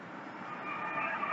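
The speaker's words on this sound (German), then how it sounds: "auf Gleis 19 erhält Einfahrt der Regionalexpress aus Heidelberg" A regional express train arriving at a station platform, a steady broad rumble with a faint rising tone toward the end, heard alone at moderate distance.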